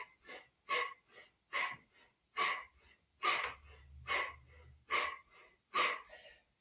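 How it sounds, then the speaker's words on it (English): Deep yoga breaths drawn in and pushed out in a steady rhythm, about eight audible breaths over several seconds, close and clear with no talking, as a gentle-yoga instructor demonstrates the breathing technique. "So take a deep breath in, and then here we go."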